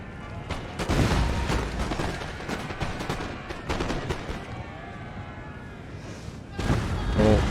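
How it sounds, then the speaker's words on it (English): Cannon artillery barrage in Napoleon: Total War, rapid overlapping booms and gunfire cracks rolling continuously, loud and dense, with a fresh heavy burst near the end. "I'm going to use barrage, and hopefully we can just annihilate them."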